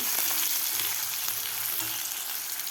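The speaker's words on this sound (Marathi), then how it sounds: "कांदासुद्धा एक मिनिटभर आपल्याला व्यवस्थित परतून घ्यायचा आहे" A medium onion sautéing in a pan for a spicy savoury semolina dish, a continuous close crackling sizzle with faint scrapes of stirring and no voices.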